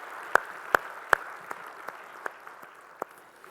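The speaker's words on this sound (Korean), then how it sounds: "우리 찬양 받으실 주님께 영광의 박수 올리겠습니다." A church congregation gives a brief round of scattered claps: a few crisp, evenly spaced strikes that grow sparser and fainter over a few seconds in a reverberant hall.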